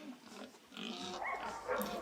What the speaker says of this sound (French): Les cochons vivent à l'intérieur de 12 petites porcheries.